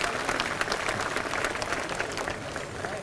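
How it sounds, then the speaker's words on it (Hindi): Dense, loud applause from a large crowd at a party workers' convention in Rewa, continuous rapid clapping without pause. "एक बार जोरदार तालियां"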